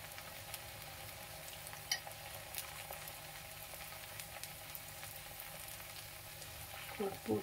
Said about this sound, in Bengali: এই যে ডিমটা দিয়ে দিলাম, এই ডিমটাকে এরকম করে গুলিয়ে নেব।